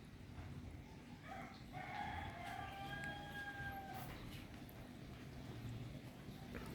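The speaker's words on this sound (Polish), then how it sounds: "piękny poranek i kury pieją" A rooster crows once in a long, drawn-out morning call at a distance in Ubud, Bali, over a steady low outdoor rumble.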